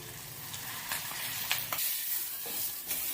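A pea mixture for kachori sautés in a pan, giving a soft continuous sizzle broken by a few light stirring scrapes, with no talk.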